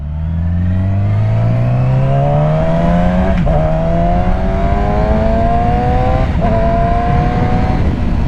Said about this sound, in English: the way this engine screams is so good.